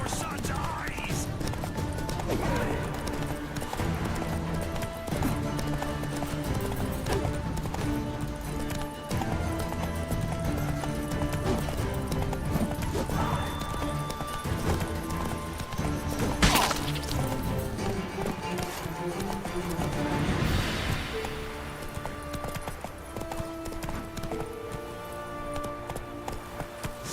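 Roach the horse from The Witcher 3 trotting with rhythmic hoof clip-clops under dense game music and combat noise, with a neigh and a few thuds mixed in.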